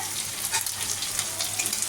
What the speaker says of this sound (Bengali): চলো তারপর আমি এটা ভেজে নিই